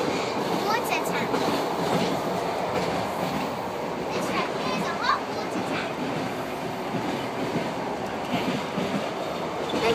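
A train on the Trans Mongolian Railway rumbles steadily throughout, with a continuous dense roar, faint clicks and occasional metallic squeaks close around the listener.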